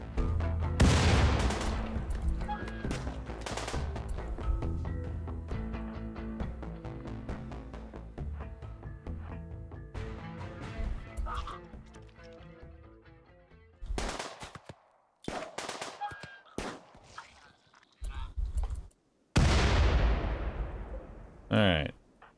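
Rimworld combat, a frag grenade thrown at a wall amid gunfire, with rapid bursts of shots and booming blasts spread across the stretch, loud at first, then broken up by short gaps and sharp impacts near the end.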